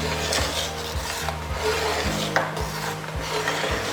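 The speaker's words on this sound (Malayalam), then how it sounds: "ഉരുളിയിലേക്ക് നമുക്ക് ചെറുപയർ പരിപ്പ് ഇട്ട് ഒന്ന് വറുത്തെടുക്കാം." Moong dal roasting in an uruli, a heavy Kerala bronze pan, with a steady gritty scraping and rubbing as the lentils are stirred, the ladle dragging in regular strokes about every half second, close and continuous with no talk.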